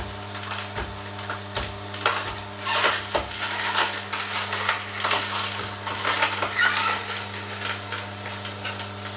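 A machine grinds as branch celery and raw red beetroot are fed in piece by piece. A steady motor hum runs under irregular crunching and crushing bursts throughout.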